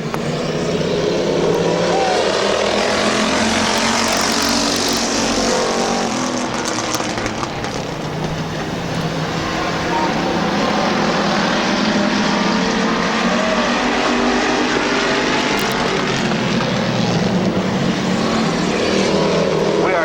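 Stock cars race side by side at Midvale Speedway, a loud continuous roar of several engines sweeping past with rising and falling pitch, steady throughout under crowd and track ambience.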